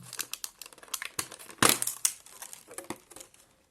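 Crinkly plastic wrapper of a chocolate-coated sandwich cake torn open, a run of close crackles and rustles with one louder burst of crumpling near the middle, no talk.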